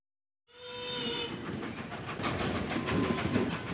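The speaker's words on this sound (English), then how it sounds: "the toy train, a narrow-gauge railway that runs between New Jalpaiguri and Darjeeling in West Bengal" A Darjeeling Himalayan Railway narrow-gauge toy train in West Bengal starts up after a brief silence, with a sustained whistle-like tone and rumbling, rattling wheels that continue steadily and fairly loud.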